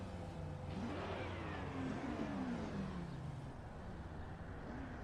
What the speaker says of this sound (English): Looking forward to the sound of these two cars actually pulling away.